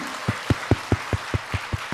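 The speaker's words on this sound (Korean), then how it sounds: "우리 부모님들 위해서 박수 한번 합시다" A small church congregation gives a round of applause for the parents during a Sunday worship service; about nine evenly spaced, fairly slow claps ring out close by, clear but modest in volume.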